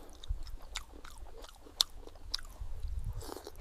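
Someone eating and chewing food up close, with soft wet mouth sounds, a few sharper crunchy clicks and a low rustle between bites, fairly quiet, with no talking.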